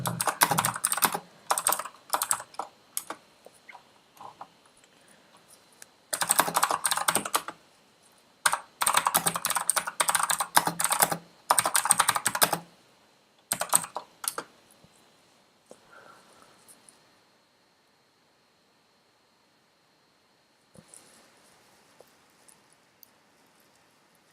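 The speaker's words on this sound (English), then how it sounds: "I see it is the keyboard that is loud. Oh, you thought my mouse was loud and it was the keyboard. Yeah, because I have a mechanical keyboard." Bursts of rapid clacking keystrokes on a mechanical computer keyboard, close and loud, in several spells of a few seconds with pauses between them, fading to near silence and a few faint clicks at the end.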